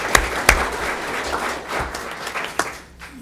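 An audience at a board meeting gives a fairly close round of applause: steady clapping from a modest crowd with a few sharper individual claps standing out.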